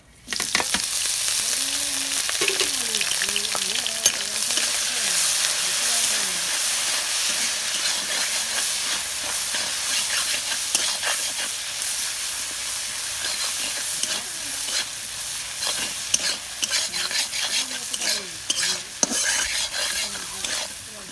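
Onions frying in hot mustard oil in a wok, a loud, steady sizzle with stirring scrapes running throughout, no voices.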